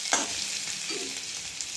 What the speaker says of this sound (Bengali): তারপর ভালো করে এটাকে ভেজে নেব